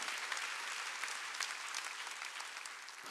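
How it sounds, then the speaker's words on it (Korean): Church congregation clapping during a Wednesday worship sermon, a continuous hall-filling roar of many hands, even and sustained, heard a little distant and softer in level. "박수 치라 이게야."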